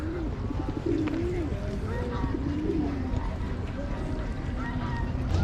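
Pigeons coo repeatedly nearby, soft throaty warbles recurring every second or so over outdoor background noise with some distant voices.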